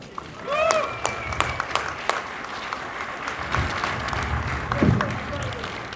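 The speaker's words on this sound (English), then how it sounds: "Let's give him a good applause." An indoor crowd at a Rhode Island State House rally applauds steadily for several seconds, a dense wash of clapping with a few shouts and whistles mixed in.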